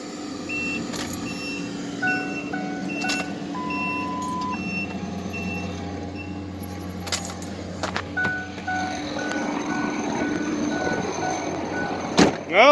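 A Ford Ranger with a blown head gasket idles fully warmed up, a steady low engine drone under scattered clicks, jingles and small rattles, before it is shut off and a louder clunk lands at the very end.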